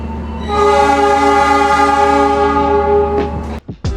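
Mutiara Selatan train departing Yogyakarta station, opening with a loud, sustained horn blast lasting about three seconds, followed by a couple of short clanks close by.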